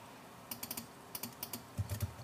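Typing on a computer keyboard, a few quick bursts of clicky keystrokes in short clusters, close and quiet with no voice.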